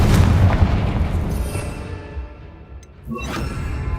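Explosion spells from Hogwarts Legacy go off, a heavy booming blast with rumbling low end that fades, then a second whooshing burst and impact near the end, with no talk.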